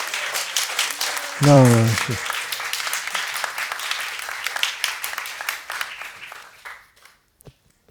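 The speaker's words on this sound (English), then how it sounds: "What is this hand clapping?" A crowd applauds at a devotional gathering honouring Bhakti Swami Maharaj, with dense, sustained hand clapping that thins and fades out toward the end; a voice briefly calls out over it.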